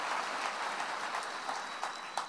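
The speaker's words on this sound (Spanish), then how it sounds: "denle un aplauso al Rey bendito" A church congregation applauding during a Sunday service, dense continuous clapping that holds steady, with a few sharper claps standing out near the end.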